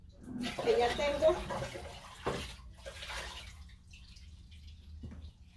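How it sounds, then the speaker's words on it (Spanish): Water poured during a witchcraft-breaking ritual, splashing and trickling into a container for a few seconds, then trailing off to quieter drips and faint handling noises, recorded close. "Voy a poner el agua que ya tengo."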